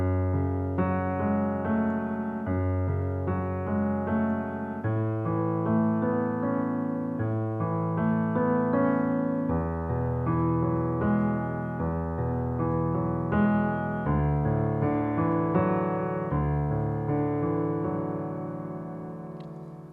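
Left-hand piano part of Ludovico Einaudi's Burning, played alone: a continuous flowing pattern of sustained broken chords with low bass notes changing every couple of seconds, steady and moderately loud with no voice.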